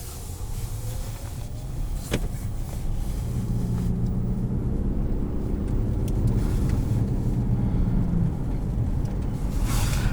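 A 2021 Ford Escape Hybrid SE AWD rolls over a salt-covered winter road, giving a steady loud road rumble with a gritty crunching hiss of tires on salt throughout.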